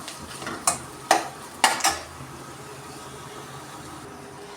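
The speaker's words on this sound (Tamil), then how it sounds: "இப்போ நம்ம கிண்டி விடுறோம் நல்லா கலக்கி கலக்கி" A few sharp clinks of a utensil stirring dried-fish curry in a pan, spaced irregularly over a low steady background hum, with no talking.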